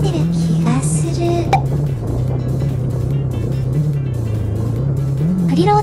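A 2019 KTM 690 SMC R supermoto motorcycle ridden on a dirt forest road, its single-cylinder engine droning loud and steady with rising and falling revs as it shifts, with wind noise over the top.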